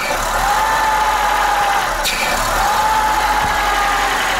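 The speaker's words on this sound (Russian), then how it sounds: "Автомобиль завел." A car engine idles steadily after starting, with a constant low rumble and a faint whine, and a single brief knock partway through.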